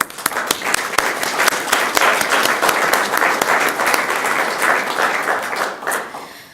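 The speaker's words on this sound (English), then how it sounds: "If we can give him a round of applause." Audience at a school board meeting applauds a police officer, with steady, dense clapping that fills the room throughout and sharper individual claps standing out, no talk over it.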